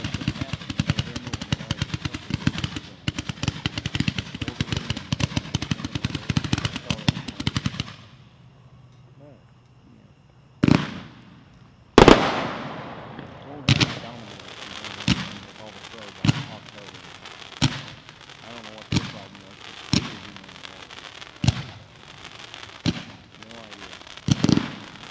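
Willy's Choice 183-shot fireworks cake firing outdoors at a fireworks convention demo: a dense rapid barrage of crackling shots, a brief lull, then a string of sharp, loud single bangs spaced a second or two apart, with voices in the background.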